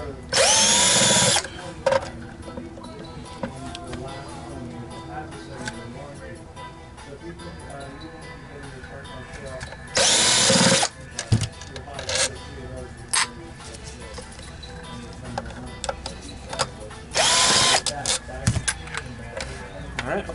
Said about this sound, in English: this lithium-ion Hitachi has about as much torque as some impact drivers